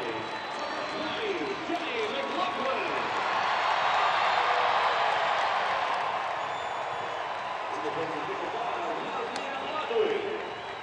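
A stadium crowd at a USL playoff soccer match between FC Cincinnati and Nashville SC swells into a sustained roar that peaks midway and then eases off, with a commentator's voice faintly beneath it.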